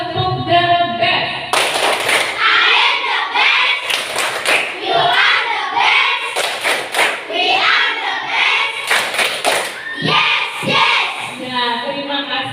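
A classroom of children performs a rhythmic group clap routine, loud sharp bursts of clapping in patterned sets, with the children chanting along between and over the claps.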